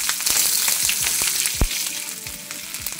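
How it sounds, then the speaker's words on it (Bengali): Chopped onion and whole cumin seeds fry in oil in a wok, a dense, continuous close sizzle broken by a few sharp scraping stirs. "কড়াইতে একটু তেল দিয়ে দিলাম, তেলের উপরে দিচ্ছি একটু গোটা জিরে, আর এবার কেটে রাখা পেঁয়াজ দিয়ে দিলাম।"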